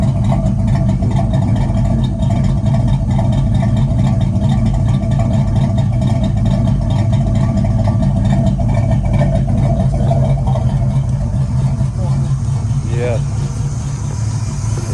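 A boxy Chevy with a misfiring, oily-plugged engine idles steadily and loud throughout, a continuous low rumble with people talking over it.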